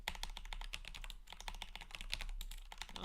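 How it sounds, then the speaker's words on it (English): Computer keyboard typing while coding a web app: rapid, uneven bursts of close, crisp keystrokes clattering steadily for a few seconds, with no talking. "Oh my god, the typing tonight."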